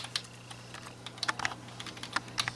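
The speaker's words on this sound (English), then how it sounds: "And your keyboard also work." Keys clatter on the keyboard of an HP 22 all-in-one desktop computer in a run of irregular, crisp taps with brief pauses, close and fairly quiet over a faint steady hum.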